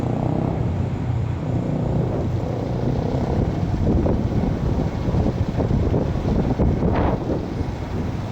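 Steady wind buffets the microphone while walking outdoors toward Harlem on a breezy night, a loud continuous rumbling roar with no voices.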